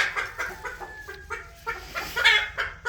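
Hens and young roosters kept on a small farm, clucking and chattering repeatedly in short, uneven bursts, close by and moderately loud with no talking.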